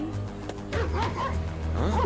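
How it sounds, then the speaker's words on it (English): A dog in an animated Street Fighter II V scene barking and yipping in short, excited bursts close by, with a low steady hum underneath. "What's making you bark at me like that?"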